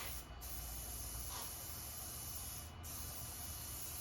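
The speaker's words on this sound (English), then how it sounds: "I'm gonna spray it." An aerosol can of spray paint hisses onto a wooden pallet in a long, unbroken blast, close and steady, with a couple of tiny breaks in the flow.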